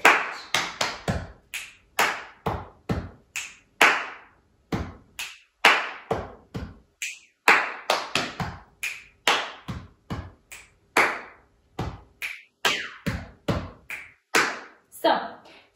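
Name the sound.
body percussion: chest taps, finger snaps and claps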